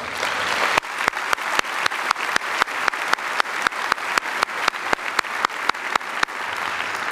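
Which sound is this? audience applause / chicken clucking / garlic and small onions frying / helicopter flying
audience applause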